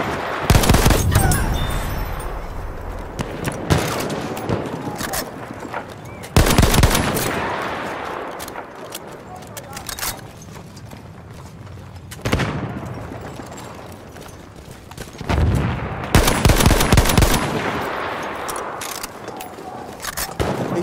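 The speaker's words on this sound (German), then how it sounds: "Maschinengewehr, eindeutig feindlich!" Enemy machine gun fire in a war video game, repeated bursts of rapid automatic shots with heavy booms, loud and close, separated by quieter stretches.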